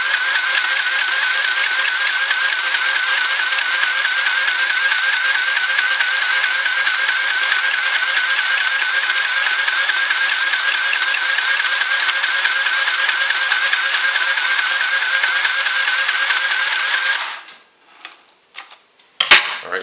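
Sewing machine double-stitching aquarium filter sock fabric, a steady fast mechanical whir and rapid ticking that runs evenly for about seventeen seconds, then stops abruptly with a few faint handling clicks.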